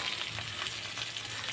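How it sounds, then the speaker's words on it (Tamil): Onions sauté in cold-pressed oil for vegetable wheat rava upma, a dense, even sizzle holding steady through the short moment, close up, with no voices. "வெங்காயம் வதங்கிட்டுருக்கு."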